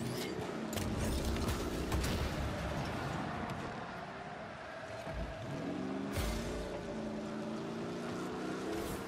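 A car in the Rocket League video game accelerates with a steady humming engine drone, swelling into rising revving tones near the end, heard fairly faintly throughout.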